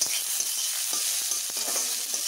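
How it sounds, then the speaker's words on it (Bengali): Chilli, garlic and onion frying in mustard oil with nigella seeds, a dense steady sizzle close by, dotted with soft crackles and light scraping from stirring. "এবার আমি এখানে আমার যে লঙ্কা, রসুন ও পেঁয়াজ ছিল সেগুলোকে আমি দিয়ে দিলাম"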